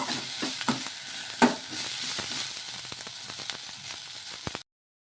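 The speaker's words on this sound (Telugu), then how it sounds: "ఇవి కూడాను కొంచెం వేయించేసుకోవాలి" Coriander and mint leaves fry and get stirred in a pan, a steady close sizzle broken by scraping strokes and soft knocks of the spoon, running continuously until it cuts off abruptly near the end.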